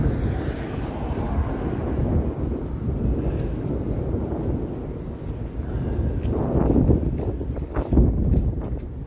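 Strong freezing wind buffets the microphone in continuous low rumbling gusts, swelling louder near the end, on a city street in Toronto at -20°C.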